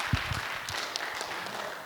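A church seminar audience applauds in a brief, dense wash of clapping that stays even and moderately loud throughout, with a few sharper claps standing out up close.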